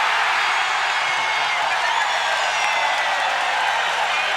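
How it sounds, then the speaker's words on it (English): A packed basketball arena crowd at a 1989 NBA preseason game between the Detroit Pistons and Orlando Magic roars in a loud, steady, unbroken wall of cheering. "Listen to this crowd."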